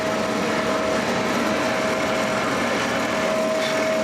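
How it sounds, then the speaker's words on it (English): A steady, continuous drill whine with a constant tone, a 1-inch Forstner bit grinding deep into wood without pause, loud and close. "We're using a 1-inch diameter Forstner bit, and we're going to go down as deep as we can."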